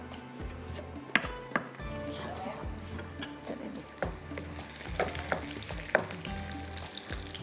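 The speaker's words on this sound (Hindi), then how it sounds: "ये अभी इसको हमने फ्राई करना है, थोड़ा सा कलर देना है।" Steady oil sizzle of ginger and garlic frying in a pan, with occasional sharp clinks and scrapes of a spoon stirring, close and clear.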